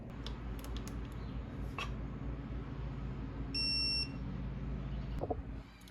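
A torque wrench clicks out a steady electronic beep for about half a second while a bolt on a BMW S54 engine's rotating assembly is tightened to 18 foot-pounds, sounding over a constant low hum of a workshop.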